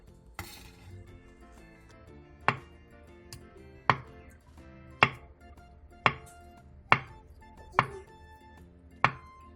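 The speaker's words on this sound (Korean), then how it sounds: "대파 3분의 1개, 청양고추 1개, 홍고추 1개를 어슷썰고 두부 반모는 1cm 정도 두께로 잘라주세요" A knife chops green onion, chili peppers and tofu on a board, with about eight sharp, distinct strikes spaced at an unhurried, roughly even pace over quiet kitchen background.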